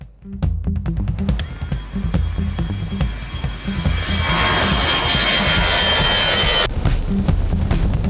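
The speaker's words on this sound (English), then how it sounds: "watching massive commercial planes roar to life and take off right over your head" A commercial jet airliner roars directly overhead on takeoff in Phuket, Thailand, the engine noise building to a loud, sustained rumble and hiss that fills the scene.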